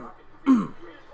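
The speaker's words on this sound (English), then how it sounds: "I've been trying to clear my throat out all day." A man clears his throat once, a short, close, harsh rasp rising out of quiet speech-like background murmur.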